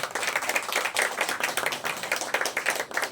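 A business association's audience applauds its chairman with brisk, dense clapping from a small crowd, steady for about three seconds, near and fairly loud, with no speech over it.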